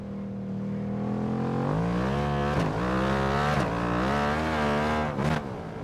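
A Ducati motorcycle engine in a racing video game drones steadily, then swells and dips in pitch as the throttle is held on through corners. Brief sharp drops in revs break the sustained, loud whine.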